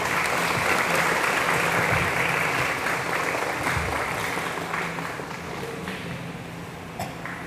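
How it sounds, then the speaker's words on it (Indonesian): Applause for students at a madrasah tsanawiyah school gathering, steady crowd clapping that slowly fades, with a cough or two heard near the end. "Tepuk tangan untuk siswa-siswinya."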